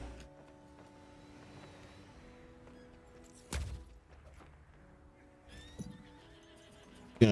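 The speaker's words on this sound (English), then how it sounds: "Gonna drop it for a horse, because horses are quiet as fuck." A horse mount in the video game Lost Ark neighs in a sharp whinny, with soft hoof clip-clops and faint game ambience around it, followed by a second brief whinny and a loud burst near the end.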